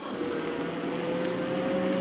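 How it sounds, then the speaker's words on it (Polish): A 250W 36V rear hub motor on a converted e-bike runs with a steady, smooth electric whine and hum under faint road and wind noise, continuous and close. "Silnik fajnie mruczy."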